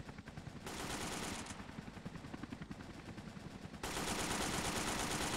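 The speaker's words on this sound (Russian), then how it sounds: "Это кто стреляет?" Gunfire in a survival video game crackles in sustained automatic bursts at mid distance, steady and dense for several seconds and rising louder toward the end, with no talking.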